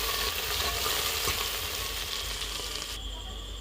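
Finely chopped onions frying in a pan, a steady close sizzle with a few scraping stirs, easing slightly toward the end.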